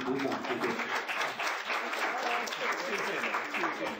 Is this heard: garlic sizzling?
no